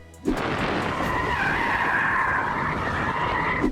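Tyre squeal from a Mercedes-Benz E-Class hybrid in drift mode, a sustained loud skidding screech that starts abruptly and holds steady for several seconds with no talk.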